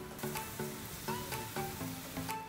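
Pre-boiled mutton frying in masala over a high flame, a steady sizzle broken by rhythmic spatula scrapes and stirring knocks, close but fairly soft, with no voices.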